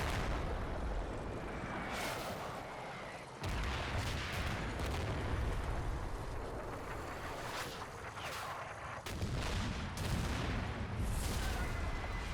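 A 4.2-inch mortar barrage impacting in the World War II strategy game Combat Mission: Battle for Normandy, with heavy, rumbling explosions landing several seconds apart, each followed by a long, noisy decay.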